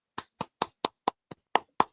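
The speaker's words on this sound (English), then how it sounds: "you giving a clap?" Eight sharp hand claps land in a steady, slightly uneven beat, close and crisp with brief silence between each, no talking.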